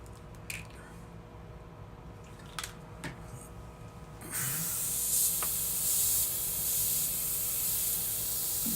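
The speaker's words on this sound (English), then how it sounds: "Do some test sprays, make sure we got it working." A paint spray gun fires test sprays: a few faint clicks and hisses at first, then a loud, sustained close hiss of atomized paint through the second half.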